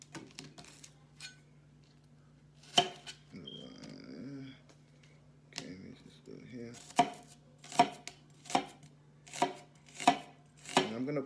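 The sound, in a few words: chopping onion with a knife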